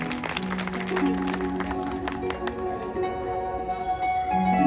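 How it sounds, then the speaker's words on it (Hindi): An audience claps together at a Bhagavat katha gathering, a fairly loud run of clapping over sustained devotional music tones, with no one speaking. "एक बार इनके लिए जोरदार तालियां बजाएं।"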